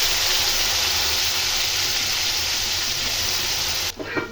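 Chopped potatoes hitting hot oil with panch phoron in a pan give a loud, steady sizzle and frying hiss that holds for about four seconds, then drops away suddenly at the end.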